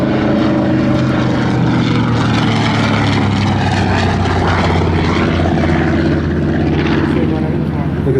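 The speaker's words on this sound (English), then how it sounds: "Look at the size of that aircraft." A Grumman Avenger propeller warplane flies past at an airshow, its loud, steady engine drone and prop roar filling the whole stretch without letup.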